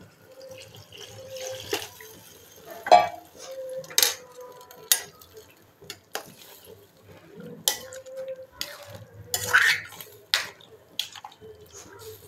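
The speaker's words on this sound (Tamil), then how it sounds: "நான் இதை மிக்ஸி அலசின தண்ணி ஊற்றுறேன்." Water is poured from a rinsed mixer jar into a pot of sambar on the stove, with splashing and dripping alongside sharp clinks of metal vessels and utensils in a kitchen.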